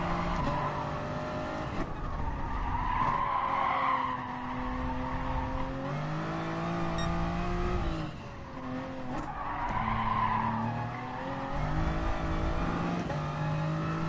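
Tires skidding as a car understeers through a corner in GT Sport, a long scrubbing squeal layered over steady engine drone and gear-shift revs, loud and continuous for the whole stretch with no talking.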